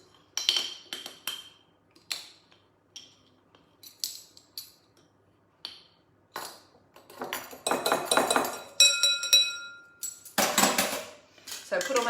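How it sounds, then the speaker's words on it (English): A spoon clinks and scrapes against a bowl while dry ingredients such as cacao powder and soda are mixed for gluten-free chocolate cookies, making repeated close metallic taps that grow busier and louder toward the end. "So I put all my dry ingredients in one bowl."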